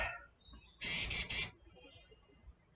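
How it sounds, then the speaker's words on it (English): A bird living under a porch roof gives a short, loud burst of harsh squawking calls, close by over faint room hiss, with a brief thin whistle just before and after. "I have a bird living in my porch."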